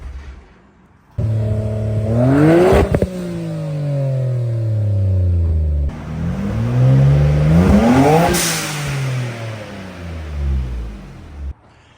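A Nissan Skyline R34 GT-R V-Spec with a Tomei titanium exhaust revs hard twice, each rising to a loud roar with a raspy exhaust note before falling back, close by with no talking.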